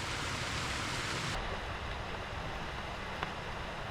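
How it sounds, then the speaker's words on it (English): Heavy rain pours over the coastal village of West Wemyss during a storm, a dense, steady hiss that stays loud and unbroken throughout, with no voices. "heavy rain."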